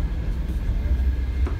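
A Russian second-class passenger train bound for St Petersburg runs with a steady low rumble and rattle heard from inside the carriage, continuous and moderately loud.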